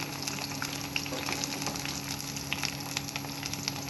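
Chilies and coriander frying in oil in a pan for egg curry, giving a loud, continuous, dense sizzle with fine crackles throughout, heard up close.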